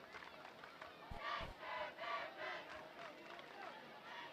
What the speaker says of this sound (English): Hear the crowd try and get into it a little bit